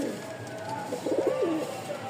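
A fancy-breed pigeon gives a short, throaty burbling coo nearby, rising and falling once over a faint background hiss.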